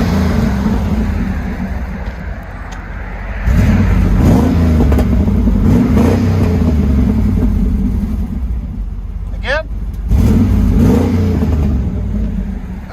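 A 1990 Chevy 1500 with a 5.7L V8 and dual exhaust through Borla Pro XS mufflers and an X-pipe, revving in loud, deep bursts over a steady rumbling idle, with a short high whine partway through.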